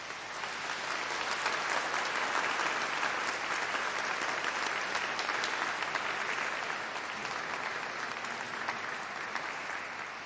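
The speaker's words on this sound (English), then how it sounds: "please join me in a round of applause of thanks to all of those who support you along the way" A graduation congregation audience at a winter university ceremony applauds in thanks, a sustained, even roar of many hands clapping that sounds somewhat distant and continues steadily throughout.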